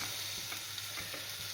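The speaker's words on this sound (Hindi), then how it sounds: "वो गुड़ को रखा है उबलने, और इसमें डाल दी मैंने अदरक।" Jaggery boils in a pot with ginger added, giving a steady close bubbling sizzle with no talk.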